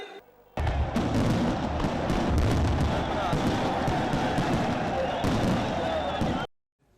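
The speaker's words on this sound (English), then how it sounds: "above them was a fireworks display" A fireworks display above a stage at Nawaz Sharif's homecoming event in Pakistan: a loud, dense barrage of popping bangs and crackles over a crowd roar, starting abruptly and cutting off sharply after several seconds.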